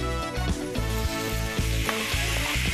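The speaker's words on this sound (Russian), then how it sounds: "Так, лук с чесноком, с перцем поджарились." Chopped onion, garlic and pepper sizzle loudly in a frying pan, a constant close crackle broken by regular scraping stirs.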